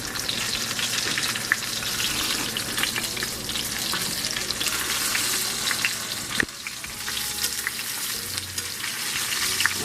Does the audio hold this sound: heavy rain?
no